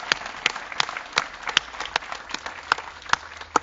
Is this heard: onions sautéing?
no